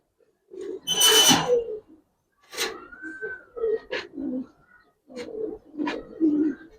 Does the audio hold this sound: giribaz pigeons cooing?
yes